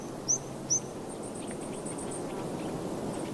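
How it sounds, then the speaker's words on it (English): High mountain birds in cold mountain air among fir trees: two sharp chirps near the start, then a quick run of thin high notes and a later faint call, all quiet over a soft airy background. "You will hear all kinds of high mountain birds singing in the cold mountain air."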